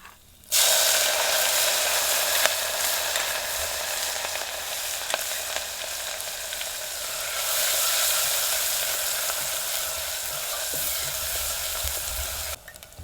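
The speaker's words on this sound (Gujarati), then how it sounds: "હવે નાખી દઈએ આપણે આ લસણ ને લીલા મરચાં આદું" Garlic, green chillies and ginger sizzle steadily in hot oil in a pan, a loud continuous crackling fry with occasional stirring scrapes, no talking.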